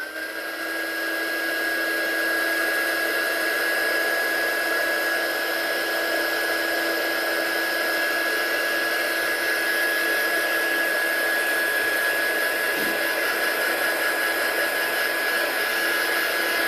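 A heat gun blasts air across a piece of craft card in one continuous, loud, steady whine with a high electric tone. It runs for the whole stretch without a break, and no one speaks.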